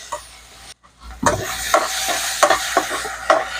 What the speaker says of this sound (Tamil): நல்லா பச்சை வாசனை போகிற முடியா நல்லா வதக்கிக்கிறோம்.